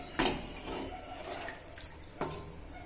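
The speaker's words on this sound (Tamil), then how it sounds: "இப்போ வந்து நம்ம கரைச்சி வச்ச புளி கரைசலை எடுத்து இதில் ஊற்றிக்கலாம்" Dissolved tamarind liquid splashes and pours into a home cooking pot, with a couple of sharp liquid hits and a soft trickle, faint and close.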